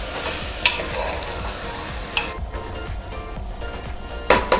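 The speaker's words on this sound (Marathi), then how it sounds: "मटण चांगलं परतून घ्यायचं तेलामध्ये।" Mutton fries in oil for a Kolhapuri mutton rassa, a continuous close sizzle with occasional spoon scrapes and clicks as it is stirred.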